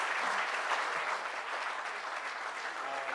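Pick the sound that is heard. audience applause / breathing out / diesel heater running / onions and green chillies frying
audience applause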